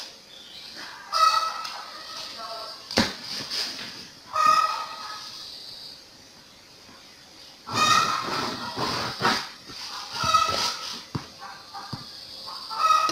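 Chickens clucking outdoors in a few loud, separate bursts of cackling and squawks with quieter gaps between them, no voices over them.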